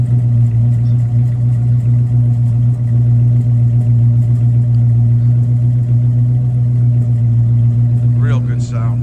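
A muscle car engine idles with a steady, loud low rumble throughout, continuous and unchanging, with a short higher-pitched squeal near the end.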